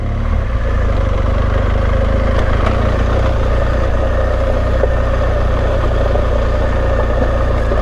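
A car drives in second gear on a steep gravel mountain pass, its engine giving a steady, close, low drone that holds constant throughout, with faint rattles over the top.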